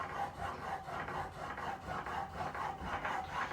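A chisel is pushed back and forth across a 400-grit diamond sharpening stone, giving a steady rhythmic rasping scrape of metal on abrasive, close and continuous with no voices.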